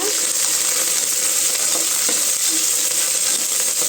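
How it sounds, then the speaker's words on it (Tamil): Green chilies and coriander leaves are stir-fried in a pan for a Tamil vegetable rice dish, giving a steady, loud sizzle with faint scraping strokes throughout and no talking. "பச்சை மிளகாய் மல்லி இலை கொஞ்சம் நல்லா கிண்டி விட்டுக்கலாங்க"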